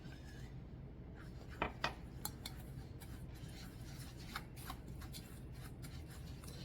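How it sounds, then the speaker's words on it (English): Graham cracker crumbs are mixed with melted unsalted butter for a key lime pie crust, a quiet, continuous rustling and scraping with a few soft taps, close and faint. "add in our 6 tablespoons of unsalted melted butter and give that a good mix as well"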